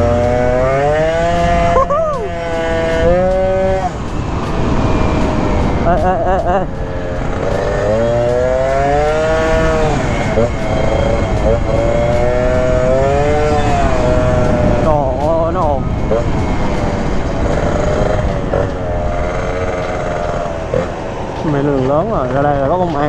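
A Honda Dio SR two-stroke scooter engine drones steadily while being ridden, with a voice talking almost nonstop over it.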